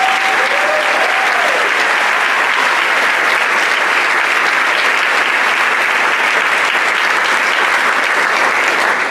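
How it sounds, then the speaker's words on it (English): An audience at a performing arts center gives a loud, sustained round of applause for all-state band students, a thick unbroken wall of clapping from many hands lasting several seconds, with a brief whistle near the start. "Please give these young people a round of applause."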